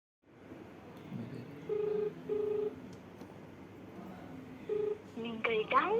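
Keypad tones sound as a phone number is dialed: four or five separate short beeps at uneven intervals, followed by a brief voice at the end.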